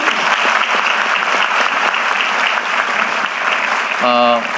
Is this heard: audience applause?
yes